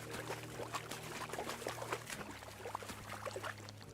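Crayfish splashing in shallow water in the video game Kingdom Come: Deliverance II: faint, scattered small splashes and trickles over a low steady hum, with no talk.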